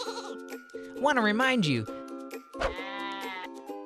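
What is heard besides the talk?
sheep bleating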